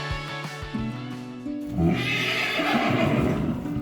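A nervous rescued horse neighs loudly, a shrill whinny rising over a rumbling, breathy background, close and prominent for most of the stretch with no one speaking.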